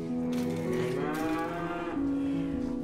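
Farm cattle low in a deep, drawn-out moo, loud and close, with a second call overlapping toward the end and no talking.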